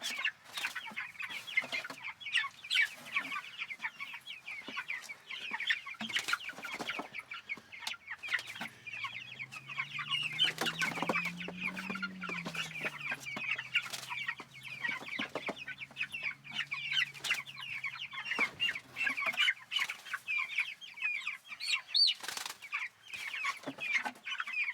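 Chickens in a chicken tractor cluck and chatter in frequent short bursts throughout, close by, with a low drawn-out call rising and falling midway through.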